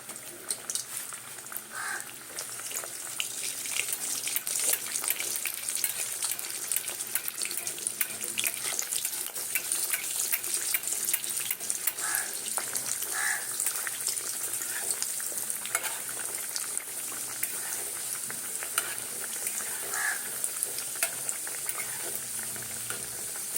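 Kachori made with moong dal and green moong frying in hot oil, giving a steady bright sizzle that continues for the whole stretch at a moderate level, with no talk.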